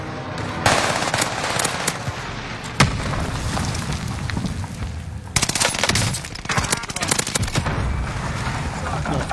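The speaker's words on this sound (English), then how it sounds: "I'm getting shot from behind." Rapid bursts of gunfire in the Call of Duty video game, with dense automatic fire and heavy booms running throughout, loud and close, with a voice speaking over parts of it.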